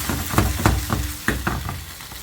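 Chicken liver stir-fried with garlic in a hot pan over high heat, giving a steady sizzle with repeated bursts of spatula scraping and tossing, fairly close and with no talking.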